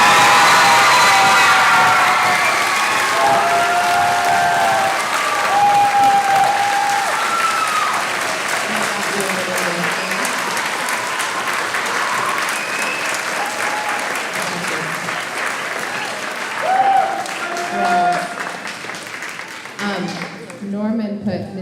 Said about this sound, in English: just yell and give a round of applause for Kim Flavius.